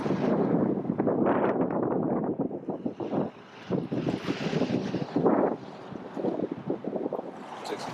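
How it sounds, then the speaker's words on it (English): Strong gusty wind buffeting the microphone outdoors, loud rushing roar that rises and dips in surges throughout, with no voices. "The wind just blew y'all down"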